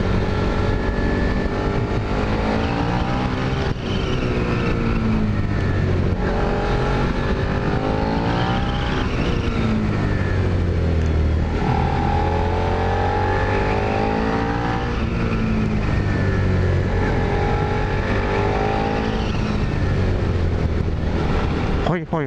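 A Suzuki SV650 motorcycle engine roars loud and close as it accelerates into a corner, its pitch sweeping up and down through gear changes over a long steady run, with a rider talking over it.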